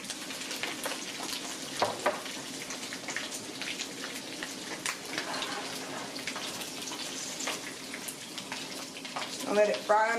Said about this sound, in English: I'm going to go ahead and fry the goat meat off.